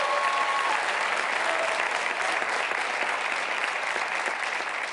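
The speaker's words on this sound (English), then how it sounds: "All those people clapping up there" Steady, dense applause from a large summit audience fills the hall evenly throughout, with faint crowd murmur beneath and no break in the clapping.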